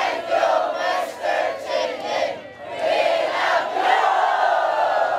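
Crowd of relief workers in typhoon-struck Tacloban City cheering together in loud, rhythmic surges, with a short dip in the middle before the shouting swells again.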